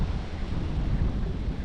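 Strong wind gusts roar steadily across open water as people board a small rowing boat, a dense, buffeting rush close to the microphone with no clear talk.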